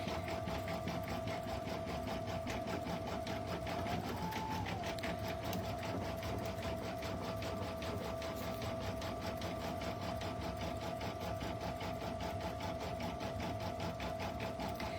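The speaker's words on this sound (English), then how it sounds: "This is the longest probably portion of the design stitch out, is doing this applique." An embroidery machine stitches out an applique design on fluffy mint minky fabric for a stuffed toy, a steady rapid mechanical chatter with a constant whine that briefly bends in pitch, running on without pause.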